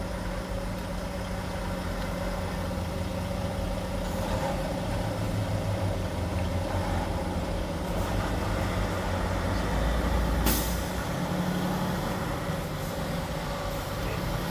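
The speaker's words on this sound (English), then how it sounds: "This truck's trying to come in here and snatch up a spot." A truck's engine idles and rumbles close by at a truck stop as it pulls into a parking spot, a steady low drone with a brief sharp hiss of air brakes near the end.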